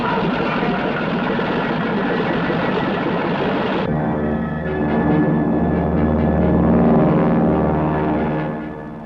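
Propeller cargo planes loaded with drums of insecticide take off, their engines roaring loud and steady, then shifting to a deeper, throbbing drone midway as the aircraft climbs away.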